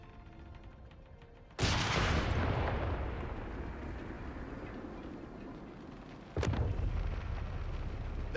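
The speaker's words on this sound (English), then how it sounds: "We get some help from an NPC ship giving us some extra bombardment" Naval ship bombardment in Company of Heroes 3 hits as two loud, sudden blasts several seconds apart. The first rumbles and decays slowly, and the second is just as abrupt, with faint battle ambience between them.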